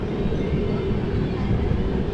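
An Agra to Delhi express train, a steady low rumble and rolling drone of the carriages heard up close, continuous and fairly loud.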